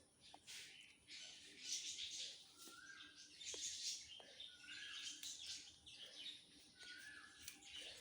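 Pet lovebirds give faint, repeated short chirps and tweets in scattered bursts against a quiet background, with no voices.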